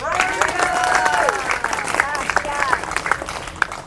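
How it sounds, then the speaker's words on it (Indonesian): A church congregation claps in a lively burst with some cheering, voices and overlapping speech audible through the applause. "Mana tepuk tangannya?"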